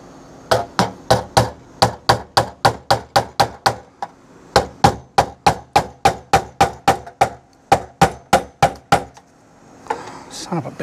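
Rapid, evenly spaced hammer blows ring out on a metal knockout of a GE electrical panel, two long runs of sharp strikes separated by a brief pause, ending with a scrape.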